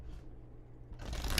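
Tarot cards being shuffled by hand, with a soft riffle near the start and a louder, denser flurry of card friction at the end, close and without talk.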